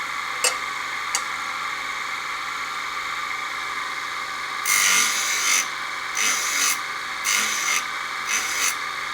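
A tool grinds a twist drill bit in four short bursts after a quiet stretch, each a harsh rasping whir, fairly close.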